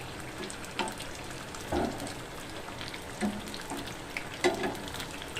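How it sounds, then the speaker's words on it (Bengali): An egg and flour snack fries in oil, browning on both sides, with a steady close hiss of sizzling and a few louder pops and crackles spaced through it. "দুই পিঠকে লাল লাল করে ভেজে নেব একদম"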